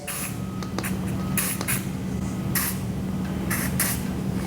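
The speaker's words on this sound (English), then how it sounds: "We're just going to spray a little bit in the cylinder stud holes." Short hissing bursts of penetrating lubricant sprayed into the cylinder stud holes of a Kawasaki KX250 engine, several in a row, close up over a steady mechanical hum.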